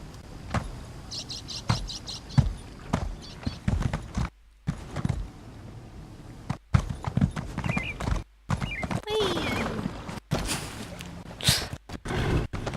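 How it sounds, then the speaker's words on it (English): Horse hooves clip-clop in a regular rhythm through a dark video game zone, close and fairly loud, broken by short gaps and a neigh-like call partway through; no speech. "Let's wash the hooves of my horse in the well."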